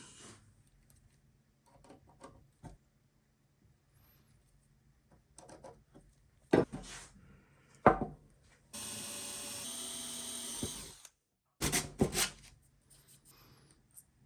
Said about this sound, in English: We're going to drill the hole in there just a little bit undersized.